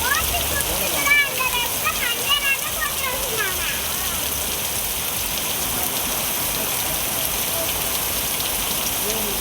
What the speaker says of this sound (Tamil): பல்வேறு இடங்களில் சுமார் 1 மணி நேரத்திற்கு மேலாக கனமழை கொட்டி தீர்த்தது